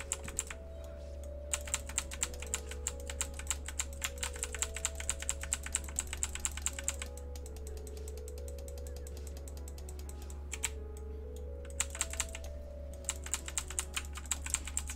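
Rapid clicky keystrokes rattle on a computer keyboard during a gaming stream, in steady bursts with short pauses, close and fairly quiet, with no talking.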